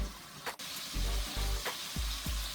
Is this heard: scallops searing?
yes